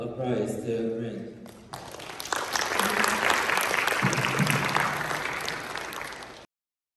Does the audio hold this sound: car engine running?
no